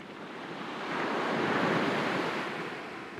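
Sea waves wash in a soft, steady roar of surf that swells gently toward the middle and eases off, calm and continuous with no voices.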